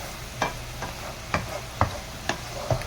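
Mushroom fry masala is stirred and scraped around a pan in about five sharp strokes, each spatula scrape standing out over a faint, low sizzle.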